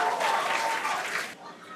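A crowd cheers and applauds loudly at a Starship re-entry view, a dense wash of noise that drops off abruptly after about a second and a quarter.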